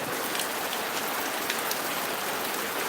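Heavy afternoon rain patters densely on a surface, a constant hiss of drops with no voices.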